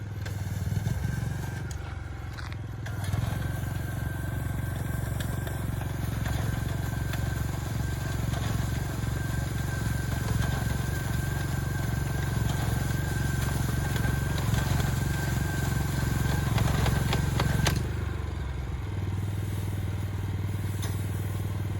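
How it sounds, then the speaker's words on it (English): A small engine-driven rice-harvesting machine cuts rice in a field in Sasebo, Japan, giving a steady low mechanical drone with faint scraping and clatter that runs for most of the stretch, then eases near the end. "He got a rinky-dink machine that's cutting his rice"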